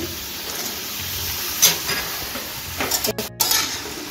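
Eggplant, pointed gourd and broad beans fry for labra in a pan, giving a steady close sizzle, with a few louder stirring scrapes and clanks near the end.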